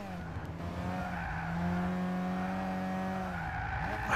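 A car skids through a corner in the Gran Turismo 6 racing game, with a sustained tire squeal over engine drone and a pitch that rises and holds, loud and close, with no talk.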